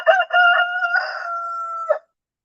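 A rooster crows once, close and loud, a sustained harmonic call of about two seconds with a short break near its start, then silence.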